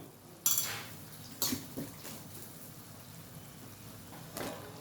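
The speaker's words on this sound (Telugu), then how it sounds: "ఇప్పుడు మనం కట్ చేసి పెట్టుకున్న వంకాయలు ఏదైతే ఉందో అది వేసుకుందాం" Cut brinjal pieces are tipped into a pan of cooked tomatoes for a coconut curry, giving a few clattering metallic knocks and scrapes. The sounds are spaced a second or so apart against a quiet kitchen background.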